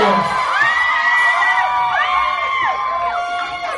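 A loud crowd screams and cheers, high shrieks rising and overlapping in waves, then easing slightly toward the end.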